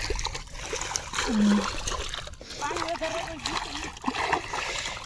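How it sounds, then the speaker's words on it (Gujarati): Water splashes and trickles steadily as carrots are rinsed on a farm, with voices murmuring and calling in the background. "જો અહીંયા બીજા અડધા ગાજર ધોવાય છે"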